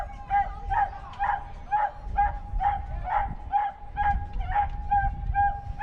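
A dog barks and yips repeatedly in a steady rhythm, fairly close, over a low background rumble at Canterbury Park racetrack.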